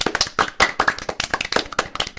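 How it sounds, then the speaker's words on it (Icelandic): Audience in a hall clapping loudly, a close, brisk burst of distinct sharp hand claps in an uneven rapid patter, with no voices over it. "mikið klapp utan úr sal."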